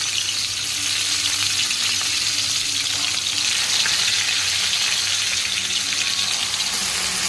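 Tomato frying in a pan after onion: an even, hissing sizzle with faint crackles that holds steady throughout, without speech.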